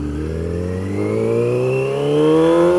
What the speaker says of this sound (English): Clutchless shift.